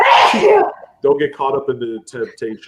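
During a live coin question-and-answer show, one loud, sharp sneeze bursts out at the start, followed right away by a person speaking close to the microphone.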